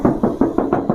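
Six quick, close knocks on a used car's metal body panel, evenly spaced and loud, with a hollow, resonant thud.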